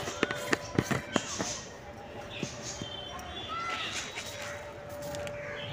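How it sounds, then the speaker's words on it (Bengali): Crows caw outdoors on a sunny morning, with a burst of several sharp calls early on followed by scattered fainter caws over an open ambient background. "কাক পায়রা সব আসছে আস্তে আস্তে"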